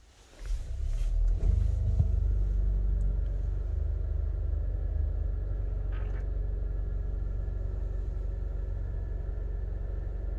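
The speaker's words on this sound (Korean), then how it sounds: "일단 브레이크를 밟고 시동을 걸어 볼게요" A 2023 Volvo S90 hybrid starts with a brief crank, then settles into a steady low idle rumble, heard from inside the cabin, with no talking.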